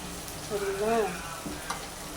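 Tomatoes frying in hot oil in a pan while preparing fish curry, giving a soft sizzle with a brief stirring scrape; quiet and close, with no talk.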